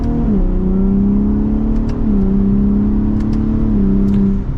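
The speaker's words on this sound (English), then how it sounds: "the exhaust stock on these Raptors sounds so good" A 2023 Ford F-150 Raptor with the EcoBoost engine accelerates in sport mode with the Baja exhaust setting, a loud, close engine note rising through gear shifts with brief dips between.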